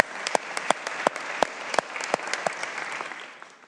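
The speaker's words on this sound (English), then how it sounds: "Let's also give them a round of applause," A crowd applauds steadily, dense clapping filling the room with a few sharper, louder claps standing out, tapering slightly toward the end.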